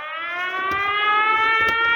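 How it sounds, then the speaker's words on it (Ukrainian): Air raid alert siren sounding in Ukraine, a loud steady electronic wail with stacked tones that holds unbroken for the whole stretch, with faint background knocks beneath it. "О, тривога у нас звучить. Увага! Повітряна тривога."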